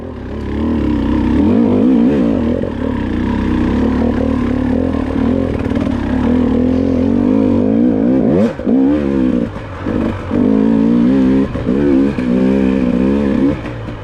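A dirt bike engine labors up a hill during a hare scramble race, loud and close, revving hard with rising and falling pitch and brief throttle dips as it climbs.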